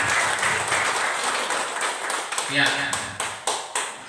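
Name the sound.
applause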